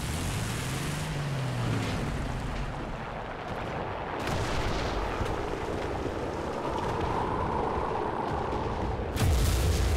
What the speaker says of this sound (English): Alan, your people are bombing me.